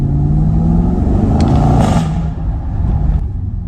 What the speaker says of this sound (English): I can hear that supercharger whining.